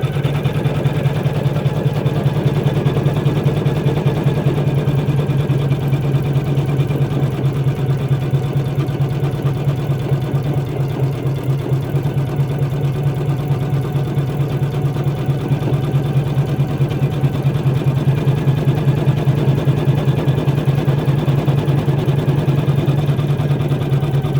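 An embroidery machine stitches a koala applique onto minky fabric, a loud, steady mechanical hum with rapid needle pulsing that carries on without a break.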